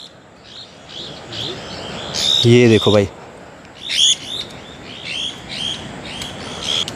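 Parrots call in a hillside forest in summer, repeated shrill chirps and squawks in scattered bursts at middle distance, with someone briefly speaking over them midway.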